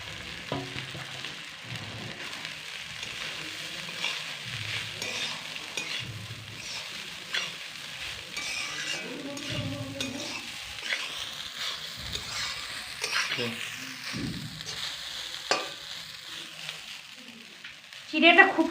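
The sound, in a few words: flattened rice (chira) being fried and stirred in ghee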